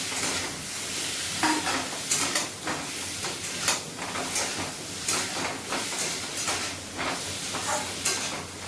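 Potatoes and onions sizzle in a hot pan for aloo paratha filling, with a steady frying hiss broken by repeated scraping strokes of a spatula stirring, close up and without talk.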